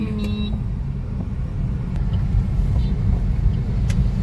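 Congested road traffic in an Indian street jam gives a steady low rumble of idling and creeping cars and engines, with faint tonal horn-like sounds near the start.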